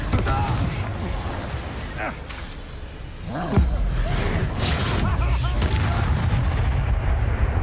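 Blasting fire spells burst repeatedly amid dense game combat noise in Hogwarts Legacy, with a big booming impact near the middle and a continuous rumbling, crackling din of explosions and effects throughout, loud and close.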